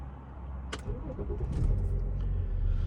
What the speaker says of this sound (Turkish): Daha sonra kitleme butonuna basılı tutup sinyali aldıktan sonra araç uzaktan çalışacaktır.